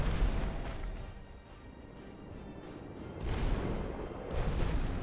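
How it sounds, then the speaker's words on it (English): Bomb blasts in the fantasy action video game Magicka, a couple of heavy booming bursts rising out of a rumbling low-frequency wash of game noise, no talking. "You exploded us with your bomb"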